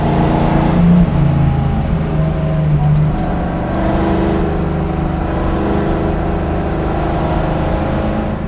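A 1965 Ford Mustang engine growls and revs while driving, loud and close, the pitch rising and easing as it accelerates.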